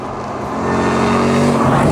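A Jaguar XFR's engine roars loudly and close, rising in intensity over two seconds into a full, sustained growl with no voices.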